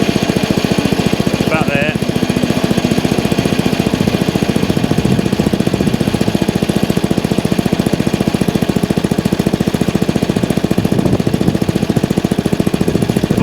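A Masport Olympic lawn mower engine idles after a clutch replacement, giving a loud, close, steady rapid putter throughout, with a brief spoken remark near the start.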